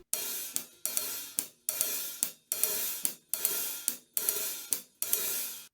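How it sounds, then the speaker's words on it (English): A basic jazz hi-hat pattern on a half-closed hi-hat gives crisp, short sizzling strokes in a steady swung rhythm, clipped off by regular closings, played alone and close. "You close the hi-hat on 2 and 4,"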